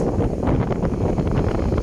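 Wind buffets the microphone in rough, rumbling gusts, loud and constant throughout with no speech.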